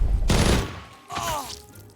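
Shotgun fire in a video game: a heavy, booming close blast that rings out, followed a moment later by a second, slightly softer report with a short metallic tail.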